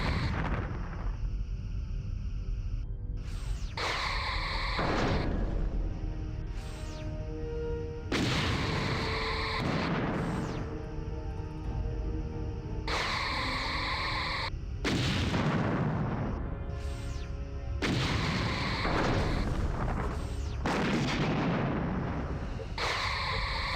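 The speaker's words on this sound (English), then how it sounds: "I feel like hearing explosions is a bad thing" Repeated heavy booming explosions in Star Trek: Bridge Commander, with rumbling blasts, loud and close, recurring every few seconds against a steady synthetic background hum.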